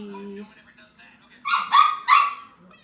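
Two pet dogs, Poppy and Joy, let out two or three sharp close barks in quick succession after a brief stretch of softer sound.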